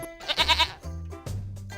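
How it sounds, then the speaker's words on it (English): A nanny goat lets out a close, loud, wavering bleat, followed by two shorter, lower bleats. "Nanny goat."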